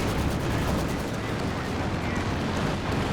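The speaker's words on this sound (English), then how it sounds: "In comes the anti-tank strafe" An anti-tank strafing run in Company of Heroes 2 unleashes a dense, continuous barrage of rapid gunfire and heavy impacts, loud and sustained throughout with no pauses.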